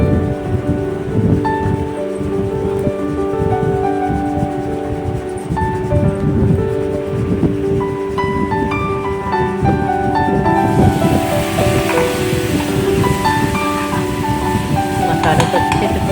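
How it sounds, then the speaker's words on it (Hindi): Garlic, red chili paste and spices fry in oil for Kathiyawadi dahi tikhari, giving a steady close sizzle and crackle that runs throughout, with someone talking over it much of the time. "मसाले को अच्छे से भून लेना है।"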